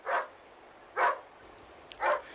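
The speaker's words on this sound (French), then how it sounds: "Madame Schmidt, pourquoi le chien aboie-t-il?" A dog barks three times in short, evenly spaced bursts at a moderate distance in an otherwise quiet setting.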